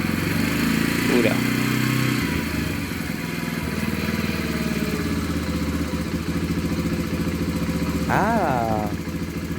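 A Maya Maha XT125X motorcycle engine idling steadily after a richness adjustment, a loud, close, even single-cylinder chug throughout, with brief revving blips and people talking over it.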